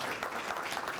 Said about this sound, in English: Please give a round of applause to Dr.